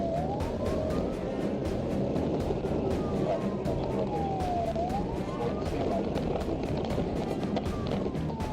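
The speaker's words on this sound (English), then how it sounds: "When Lipsky turned on his lights and siren to stop the vehicle, the SUV sped away." A police siren wails continuously, sweeping up and down in pitch over steady road and traffic noise, fairly close and loud throughout.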